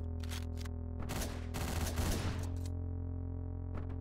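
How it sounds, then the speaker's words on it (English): Silenced gunshots in the video game Hotline Miami, a few quick bursts of muffled shots over a constant droning music bed, with one faint extra pop near the end. "I've got silent gunshots"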